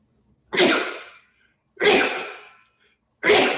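Three loud sneezes in succession, each a sharp burst trailing off, spaced about a second and a half apart, close up with no talking.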